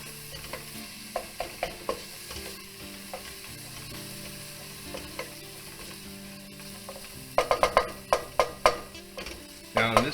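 Garlic sizzles in a hot pan for a roasted pumpkin soup under a soft, continuous frying hiss, while a utensil scrapes and clicks against the pan in irregular bursts that grow busier toward the end.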